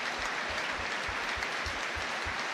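A Tynecastle stadium crowd at the Hearts versus St Mirren football match rises in memorial applause: a loud, dense, sustained wash of clapping from thousands of hands, steady and unbroken throughout.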